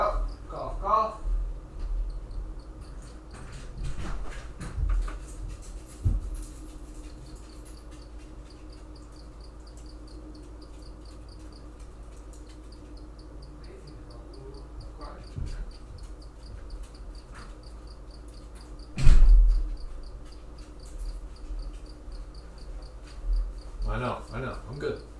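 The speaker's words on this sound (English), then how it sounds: "I have the synthetic cricket noises occurring once more." Faint, steady high-pitched cricket-like chirping persists throughout, with occasional soft thumps, shuffling and a brief louder knock in the background.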